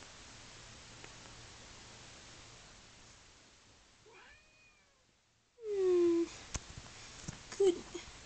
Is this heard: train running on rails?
no